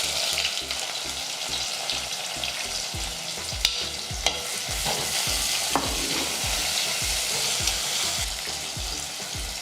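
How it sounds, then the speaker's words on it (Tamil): Chopped small onions (shallots) hit hot oil with sputtered mustard seeds and urad dal for a South Indian sardine curry made without coconut, giving a loud, steady sizzle broken by repeated scraping stirs and a few sharp clinks of the spoon. "நல்லா இது பொரிஞ்ச உடனே பொடி பொடியாக நறுக்கி வச்ச சின்ன வெங்காயம்"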